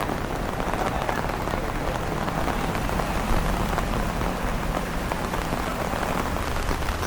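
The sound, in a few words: summer rain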